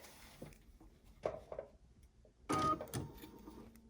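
A sewing machine stitching quilt block pieces together gives faint, short mechanical whirring runs, with a louder burst of stitching near the end in a quiet room.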